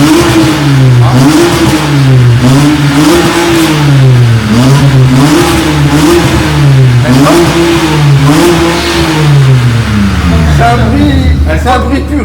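A 3-litre car engine revs repeatedly in rising and falling sweeps, loud and close, with a rhythmic cycle of blips across the whole stretch.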